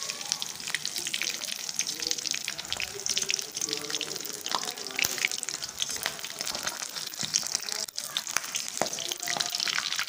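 Pumpkin flower pakoras fry in hot oil with a steady, close, crackling sizzle and scattered pops, continuous and fairly loud throughout.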